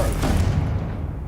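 A Confringo fire-blast spell goes off in Hogwarts Legacy, one heavy booming burst with a dense low rumble that fades steadily over about a second, with no voices.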